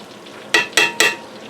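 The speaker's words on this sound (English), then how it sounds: "Hot grease, hot grease." Chicken frying in hot grease in a pan for Southern-style pan-fried chicken, with three quick loud crackling sizzle bursts in a row over a faint steady background hiss.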